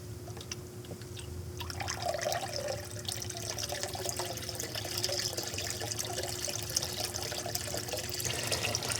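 Steady running water trickling and splashing continuously as it spills through the emergency overflow from a bog filter into a patio pond, with a faint hum underneath.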